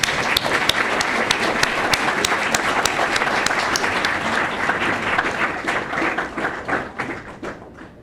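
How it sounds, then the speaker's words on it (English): Sustained audience applause for volunteers at a global president's address to a Zoroastrian gathering, dense clapping with occasional nearby thuds, steady for most of the span before thinning out near the end. "we should give them a big round of applause"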